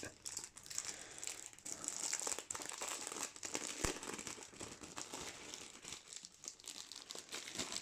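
Plastic wrapping crinkles and tears continuously at close range as a Maladum board game box is unwrapped, with irregular crackles and rustles throughout.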